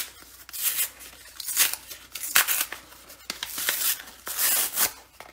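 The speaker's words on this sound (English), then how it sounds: "what we're going to do is actually peel one of the layers off" A layer of corrugated cardboard is peeled away for a rustic Christmas card, giving close, continuous tearing and ripping in several bursts, with no talk.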